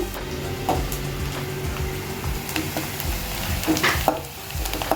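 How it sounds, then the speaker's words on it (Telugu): Green chillies and onions fry in a pan for a restaurant-style chicken masala, a steady close sizzle with scattered soft pops and stirring scrapes, no voices. "పచ్చిమిర్చి అన్నీ కూడా ఇందులో వేసేసుకొని ఇప్పుడు ఇదంతా కూడా కొంచెం గోల్డెన్ బ్రౌన్ కలర్లో వచ్చేంత వరకు కూడా మనం బాగా ఫ్రై చేసేసుకోవాలి"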